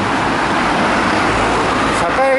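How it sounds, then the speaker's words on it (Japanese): Traffic rumble fills a roadside at a Japanese bus stop as a bus pulls in, a steady loud engine and road wash throughout, with a brief squeal or chime near the end and a voice talking over it. "バスが参りましたけどね"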